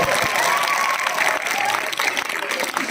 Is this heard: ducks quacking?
no